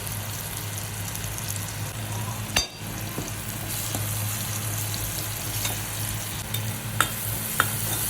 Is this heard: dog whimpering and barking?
no